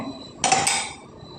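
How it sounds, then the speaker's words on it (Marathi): A metal lid is set onto a pan of simmering matar paneer curry, giving a single bright clatter with a brief ringing tail in a quiet kitchen. "झाकण ठेवूया"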